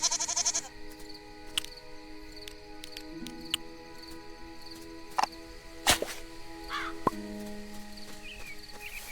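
A pig goat from the farming game Moonlight Peaks gives a few short, faint bleats that stand apart from light background music, with no talk.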